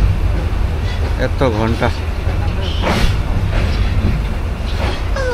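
Inside the moving Joyantika Express between Sylhet and Dhaka, a constant low rumble and rattle of the carriage fills the air, with voices chattering loudly over it and a few brief squeaky sounds.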